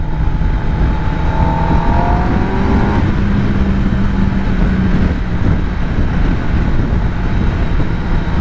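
A Kawasaki ZX10R motorcycle on a ride with a bubble screen fitted, its engine droning steadily and loud alongside constant wind rush, the pitch shifting a little as the bike changes speed.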